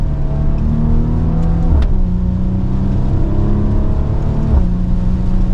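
Maserati Ghibli Modena Q4 engine revving loudly up close, with two sharp throttle blips as the ZF gearbox downshifts manually, over a continuous rumbling drone.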